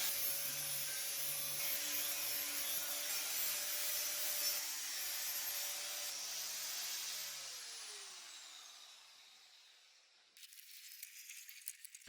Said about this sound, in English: I went straight in with a flat disc to clean it up